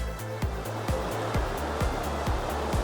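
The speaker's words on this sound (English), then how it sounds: "usually the falls here are nowhere near as crazy as it is right now, just because of all the rain. All this beautiful rapids." Creek rapids and waterfalls at Fires Creek, swollen after heavy rain, produce a steady, dense roar of rushing water throughout, alone without voices, with a faint repeating low thump underneath.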